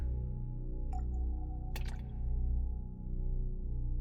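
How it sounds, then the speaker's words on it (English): Water drips from a broken radio in a video game, a few soft, close drips over a low, steady hum. "Water constantly oozes out from the radio's body"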